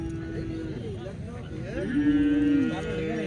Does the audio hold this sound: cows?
yes